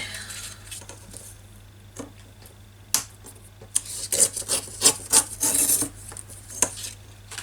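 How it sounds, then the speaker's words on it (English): Paper strips torn by hand for stitched craft tags, a series of quick, close rasping rips that cluster and grow louder toward the middle, with short pauses between them. "I probably need to rip some strips"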